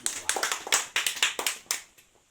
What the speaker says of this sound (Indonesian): Oke, tepuk tangan untuk kelompok